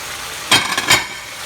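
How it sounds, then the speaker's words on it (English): Onions, mushrooms, green peppers and red pepper sauté for chicken fried rice, sounding as a sudden close burst of sizzling and stirring that rises in two surges, then settles back to a low hiss. "Saute it all up, keep going, saute it all up."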